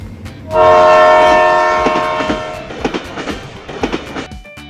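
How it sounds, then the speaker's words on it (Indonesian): A loud train horn blares, then steel wheels clatter over the rail joints in a quick, rhythmic clickety-clack as the train passes. "Suara roda besi yang melintas di atas rel baja."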